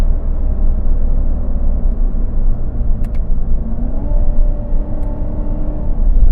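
A Corvette C7 Z06 with an 8-speed gearbox accelerates hard through about 3,000 RPM, its engine a loud, steady, deep rumble heard from inside the car with a rising tone, and no talk over it.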